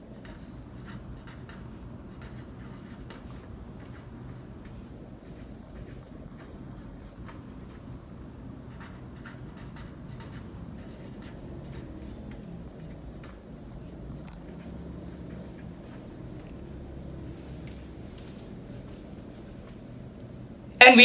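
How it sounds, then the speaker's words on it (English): Pen or pencil writing on paper while working through a fraction word problem, a soft continuous scratching that runs steadily and quietly throughout with no talking. "We can write that down."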